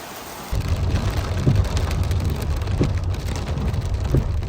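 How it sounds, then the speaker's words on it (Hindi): Heavy rain pours steadily outdoors in Makkah, a dense continuous hiss of drops hitting surfaces, with a few low rumbles beneath it. "हम आपको बाहर बारिश में दिखाते हैं कि यहाँ का मौसम कैसा रहता है बारिश में"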